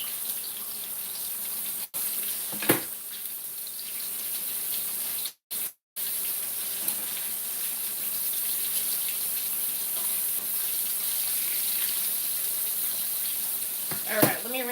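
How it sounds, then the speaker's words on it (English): Tap water runs steadily into a kitchen sink while hands are rinsed during sandwich cooking, a continuous hiss broken by a couple of brief cut-offs and a few small splashes and knocks. "Alright, let me rinse my hands real quick."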